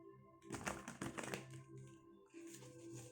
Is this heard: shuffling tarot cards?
yes